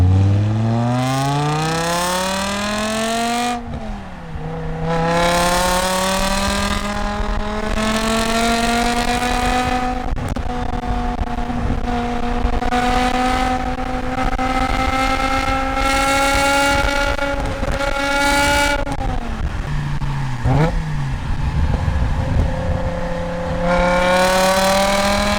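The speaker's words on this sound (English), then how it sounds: "I hope you're properly drunk on that glorious V10 sound." A BMW E60 M5 with a V10 engine and six-speed manual accelerating hard on a drive, a loud continuous rising engine howl with several gear-change dips, heard close with no talking.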